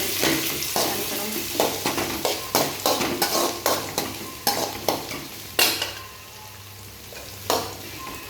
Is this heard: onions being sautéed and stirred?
yes